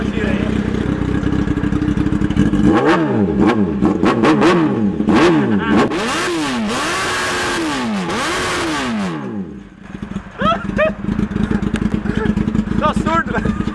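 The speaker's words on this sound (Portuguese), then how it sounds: "Dá uma acelerada pra nós cortar o giro aí." A Honda Hornet 600cc motorcycle engine fitted in a mini Camaro drift car revs hard and close, climbing and dropping in repeated sharp sweeps before falling back to a rough, popping idle while people talk.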